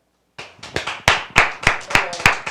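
Several sharp hand claps ring out close by in a quick, slightly uneven burst after a moment of silence, with no talking over them.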